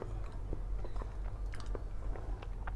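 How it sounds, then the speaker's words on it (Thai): Someone chews ripe Monthong durian from volcanic soil in Sisaket, with soft, wet, close-up chewing and bites that come in an irregular rhythm and occasional faint crunches. "มามาปอกไปด้วย กินไปด้วยครับ เนื้อสุก"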